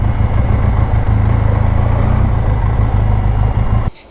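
A motorcycle engine idles with a steady, loud, close rumble while parked near the Seven Sleepers' Cave in Turkey, then cuts out abruptly at the end.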